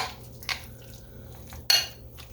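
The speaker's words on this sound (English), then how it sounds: "I'm going to stir it up now." A spoon stirring a thick mixture of mayonnaise, beaten egg and mozzarella, Parmesan, Cheddar and Swiss cheeses in a bowl, giving a few soft close clinks and scrapes against the dish, with a sharper knock near the end.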